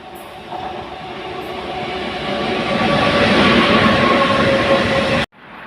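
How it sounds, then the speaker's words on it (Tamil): A goods train rolls through a small two-platform railway station, a loud, steady rumble of wagons and wheels building over several seconds before cutting off abruptly near the end. "அப்படியே உள்ளே வந்தோடனே ஒரு குட்ஸ் ட்ரெயின் வருது."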